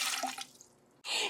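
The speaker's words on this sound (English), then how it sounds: "If I were to melt that snow and pour it into this outer tube" Melted snow water pouring into a narrow outer measuring tube, a brief splashing trickle that fades, then a short louder burst of water at the end, heard alone.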